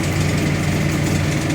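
A backhoe engine idles low while lifting retaining wall blocks, giving a steady, close, rumbling drone with no talk.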